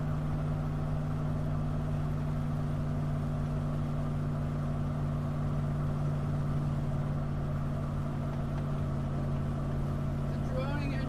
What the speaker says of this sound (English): The droning engine sound is making good ASMR